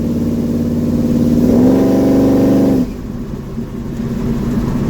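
A 1971 Chevy C10 pickup's engine revs up under acceleration while driving, its tone rising and holding loud and close before dropping off sharply to a quieter running drone.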